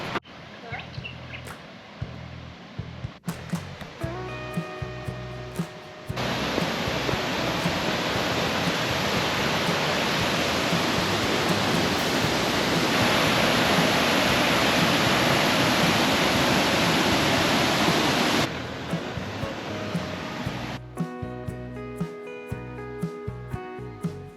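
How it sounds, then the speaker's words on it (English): Running water in Bell Gorge on the Gibb River Road, a broad steady rush like a waterfall or fast stream that swells to a loud, continuous roar in the middle, with people talking quietly at the start and end. "It's always exciting when you can hear the running water."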